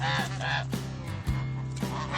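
Geese with goslings being let out, honking loudly and close in overlapping calls, several honks following one another with no pause.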